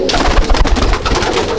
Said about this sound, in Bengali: দেখুন পায়রা, এই হচ্ছে পায়রা আমার ফুলসিরা